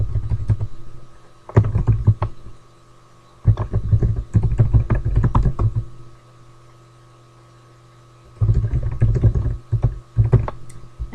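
Computer keyboard typing in bursts of rapid key clicks separated by pauses, close and fairly loud over a steady low electrical hum.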